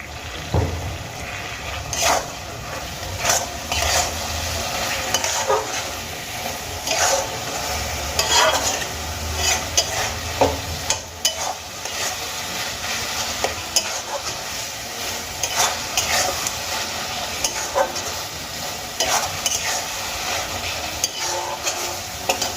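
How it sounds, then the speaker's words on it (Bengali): Chopped fenugreek leaves stirred and fried with spices in a pan for a Bengali methi dish, loud continuous sizzling with repeated scraping strokes of a spatula, close and unbroken, no talking. "এবার আমি এই মেথি শাক কিন্তু মশলার সঙ্গে খুব ভালো করে ভেজে নেব"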